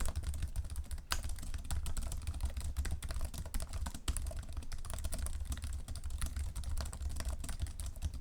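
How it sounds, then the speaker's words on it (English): Steady typing on the keyboard of a Lenovo Yoga Slim 7i Pro laptop, with short-travel clicky keys giving a continuous run of close, even key taps and no talking. "Here is a little typing test so you can hear how the keyboard sounds."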